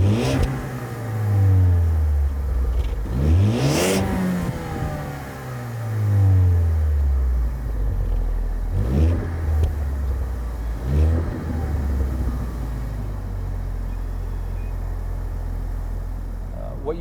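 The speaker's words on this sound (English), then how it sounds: "the exhaust in this, it's not terrible. It does have a little bit of grumble to it" A 2014 Ford Focus ST's engine and exhaust grumble steadily inside the car, rising in a couple of revving sweeps with low droning harmonics and brief bumps. Voices murmur faintly over the engine.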